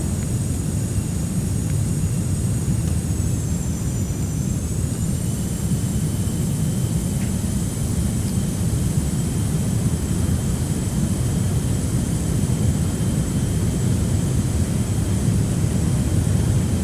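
The engine of a G39 Griffen aircraft in Microsoft Flight Simulator 2020 hums as a continuous, even roar with a faint high whine that dips briefly, steady throughout with no talk.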